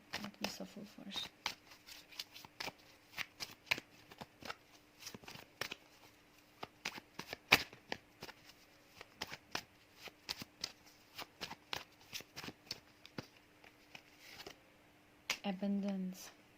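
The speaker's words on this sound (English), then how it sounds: "Let me shuffle first." Handmade oracle cards are shuffled by hand in a long run of quick, crisp riffles and taps, close and fairly quiet, with a brief pause and a short murmur near the end.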